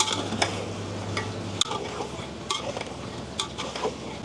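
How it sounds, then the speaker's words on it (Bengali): Flour being stirred into vegetables cooking for Bengali lavra gives a low simmering sizzle punctuated by regular clinks and scrapes of a spoon against the pot, close and without speech. "তবে এক জায়গাতে দেওয়া যাবে না, একটু নাড়িয়ে নাড়িয়ে দিতে হবে"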